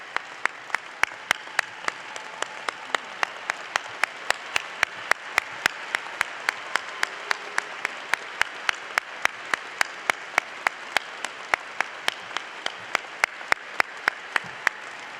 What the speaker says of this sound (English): Why don't we all stand up and give them a round of applause?